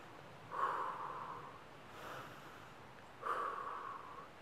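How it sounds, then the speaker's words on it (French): A person takes slow, deep breaths in and out as a relaxation exercise, three soft, airy nasal breaths spaced a second or more apart, close but faint, with no talking. "Des grandes inspirations, des grandes expirations."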